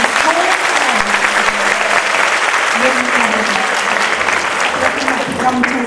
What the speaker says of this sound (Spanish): Los niños de Samacá, un aplauso fuerte, fuerte.